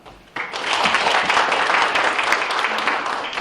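Loud, steady audience applause fills a hall at a Korean disaster-relief policy forum, starting abruptly after a brief quiet moment and continuing for about three seconds.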